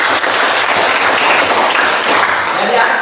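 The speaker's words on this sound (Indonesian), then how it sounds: "tepuk tangan dulu, teman" A classroom audience claps for a few seconds, a dense even patter of many hands with no pauses.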